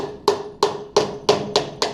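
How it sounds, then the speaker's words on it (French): A small hammer lightly taps a part into place on a car's rear-axle differential, six sharp evenly spaced metallic taps, close and clear, with no talk. "Je vais l'appliquer devant mon différentiel avec un petit marteau."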